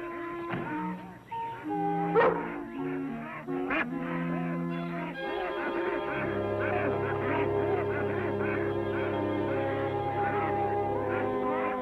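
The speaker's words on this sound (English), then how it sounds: "Goose doesn't want to leave" A goose honks repeatedly in an outdoor wildlife setting, loud nasal calls in irregular bursts that settle into a steady low drone of honking.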